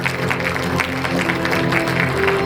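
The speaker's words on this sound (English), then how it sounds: "Let us appreciate her with a warm round of applause." Students and guests at a school investiture ceremony giving a round of applause, steady dense clapping across the hall for a couple of seconds over a sustained background tone.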